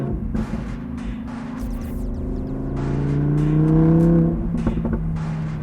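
A Lamborghini Huracan Performante Spider with a hot titanium exhaust idles and rumbles, its engine note rising and falling while crackling pops and bangs burst through the low drone.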